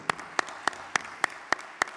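Seven sharp, evenly spaced claps in a steady rhythm from people at the opening of an international patients' congress, crisp and fairly near against a quiet background.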